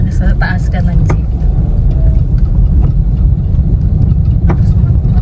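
Jeepney engine rumbling steadily while riding on its roof along a road in Taysan, a loud continuous low drone with wind buffeting and people talking over it.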